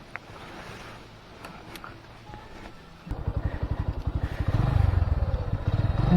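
A Bajaj CT 125 motorcycle with a five-speed gearbox starts and idles, a quiet background giving way to a loud, rapid single-cylinder putter that builds and rises in revs near the microphone.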